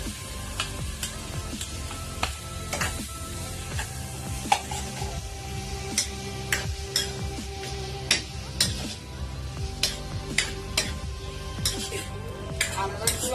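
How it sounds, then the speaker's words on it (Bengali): Chopped pineapple frying in ghee in a pan, a continuous light sizzle under repeated rhythmic spatula taps and scrapes against the pan. "যে আনারসগুলো আমি কুচি করে রাখছি এগুলো একটু ঘিয়ের মধ্যে ভেজে নেব"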